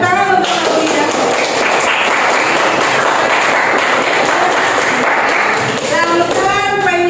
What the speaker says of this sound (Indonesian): Tepuk tangan untuk Aulia.